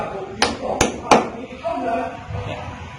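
Hammering clips into old, crumbling cement plaster, three sharp metallic strikes close together near the start, followed by scraping and a faint voice underneath.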